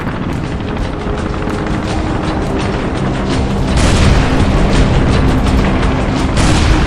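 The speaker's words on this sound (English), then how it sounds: "Explosions and gunshots could be heard everywhere." Deep booming explosions rumble continuously, dense and loud, with a heavier burst of blasts partway through; no distinct individual shots stand out.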